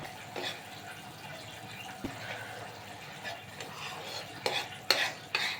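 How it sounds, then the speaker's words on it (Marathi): Jaggery melting in ghee in a pan is stirred with a spoon, giving a soft steady scraping and faint sizzle, with a few sharper clinks of the spoon against the pan near the end. "घेतलेला गूळ या तुपामध्ये आपण टाकूया। हे बघा गूळ आता वितळत चालला आहे।"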